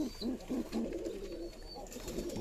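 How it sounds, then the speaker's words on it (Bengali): Sirajee pigeons kept free-range give soft, low throaty coos in a few close, rounded pulses, with faint background chirps and no talking. "সিরাজি পায়রা আমি মুক্তভাবে পালন করি"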